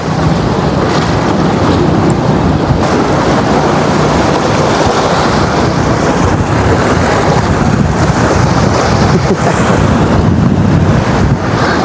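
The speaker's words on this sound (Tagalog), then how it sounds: "lakas ng hangin" Strong wind roars steadily into the microphone by the sea, with a constant broadband rush and no voices.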